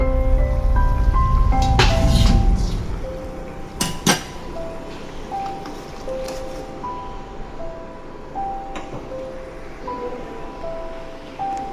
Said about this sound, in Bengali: ঝোলটা ফুটে গেছে, এবার আমি মাছগুলো ঝোলের মধ্যে দিয়ে দেবো।